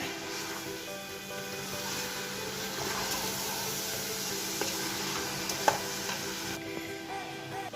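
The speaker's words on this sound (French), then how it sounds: "Vous le mettez dans la préparation et vous remuez." A vegetable mixture with coarsely cut bell pepper is stirred in a pot for couscous, a steady soft scraping and faint sizzle running throughout with no talk.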